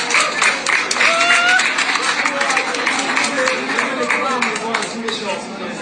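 An audience at a talk about generating electricity from plants claps in a scattered burst that runs throughout, mixed with voices talking over it.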